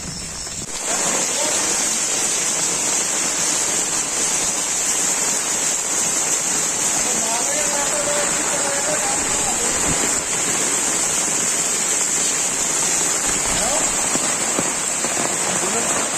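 Heavy rain pours down in Hyderabad as a dense, steady hiss of water on surfaces that stays loud and even from start to finish.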